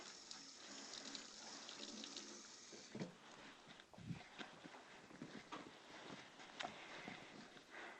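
A kitchen tap runs while hands are washed under it, a faint steady hiss of water with occasional splashes and clatters, no talking.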